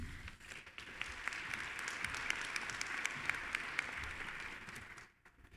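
An audience at a university fall commencement ceremony claps in steady, moderately distant applause that holds evenly for several seconds and then fades out.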